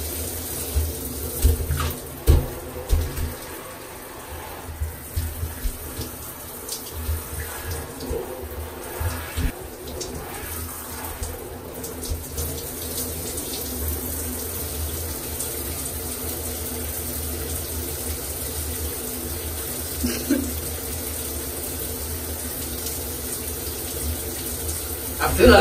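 Water runs from a shower in a steady, hissing stream with muffled splashing and irregular thumps as someone moves beneath it, and a voice speaks over it at times.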